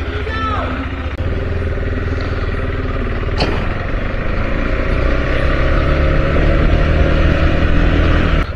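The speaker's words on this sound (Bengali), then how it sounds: "তো চলো আজকে এই বাইকটা একটু রাইড করবো" A KTM 390 Adventure motorcycle on the road between Kolkata and Santiniketan, its engine a loud, steady drone mixed with rushing wind noise that runs throughout.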